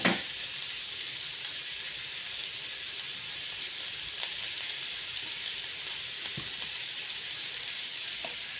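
Cucumber stir-frying in a hot pan for a Thai sweet and sour stir-fry, a steady bright sizzle running throughout with occasional scraping clicks of a utensil, close and even, no voices.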